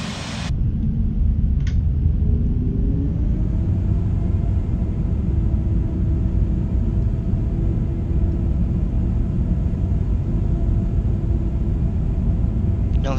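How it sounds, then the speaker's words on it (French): CFM LEAP turbofan engines on an Airbus A321neo spool up in Microsoft Flight Simulator, a heavy continuous low rumble with a faint rising whine, steady and loud throughout without voices. "vous entendez bien le CFM LEAP qui monte en régime"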